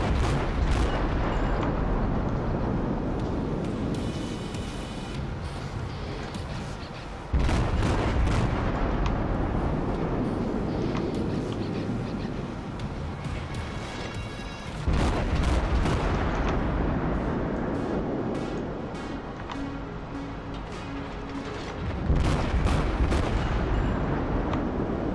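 Heavy naval gunfire from a World of Warships battle, several big booming salvos roughly every seven seconds, each a loud blast trailing into rumbling decay over a continuous low background.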